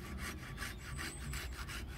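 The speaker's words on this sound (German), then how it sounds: "Oder wir sägen erstmal ein, rollen dann ein bisschen rum und sägen oben nochmal den Rest weg." Hand saw cutting into a wooden log on a bushcraft bark-boat project, steady back-and-forth rasping strokes close by and fairly quiet, with no talking.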